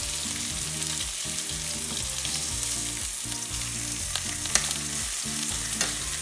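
Citrus salmon sears in a hot pan, a steady close sizzle and crackle running throughout with a few sharper pops, no voices over it.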